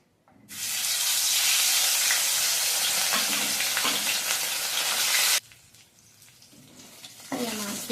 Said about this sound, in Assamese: কেৰাহীখন গৰম হৈছে ইয়াতে মই মাছকেইটা ভাজি লওঁ